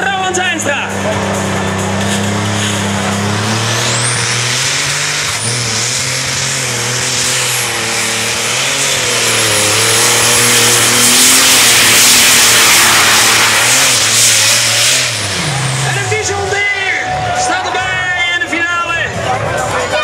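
A John Deere tractor-pulling engine roars loudly and steadily, rising in pitch as it strains under load, while a crowd murmurs in the background.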